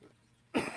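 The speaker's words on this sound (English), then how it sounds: "Cover your cough, y'all." A single sharp cough bursts out loud and close after a stretch of near silence, broadband and abrupt with a short rough tail.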